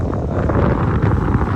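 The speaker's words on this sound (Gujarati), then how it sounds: "ઠંડો પવન છે, ઠંડી લાગવા મળી એટલો ધ્રુજી ગયા." Cold wind blows hard at Jaigarh fort, a continuous loud buffeting rush across the microphone lasting the whole moment, with no speech.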